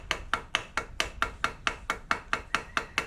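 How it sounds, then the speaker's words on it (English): A screwdriver taps the carburetor float bowl of a Kawasaki G5 motorcycle about a dozen times, sharp close metallic knocks in an even, quick rhythm with nothing else heard. "I might tap that with a screwdriver"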